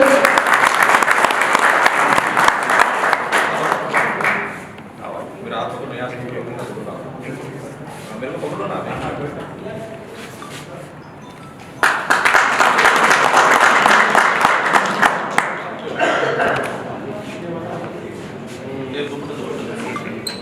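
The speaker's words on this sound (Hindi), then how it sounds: "कृपया जोरदार तालियों से इनका स्वागत करें।" Audience applause welcoming guests at a swearing-in ceremony of a cable operators' association in Udaipur, with two strong bursts of clapping separated by a quieter stretch where a voice speaks over the crowd.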